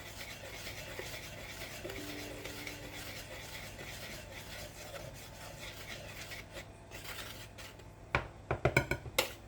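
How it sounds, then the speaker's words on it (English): Strawberry muffin batter whisked in a bowl, a quiet scraping, rubbing rhythm close by, ending in a few louder knocks and clinks against the bowl. "And then we want to give this a whisk and make sure that everything is good and combined."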